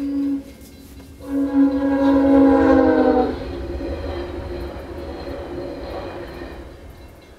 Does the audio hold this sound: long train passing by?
yes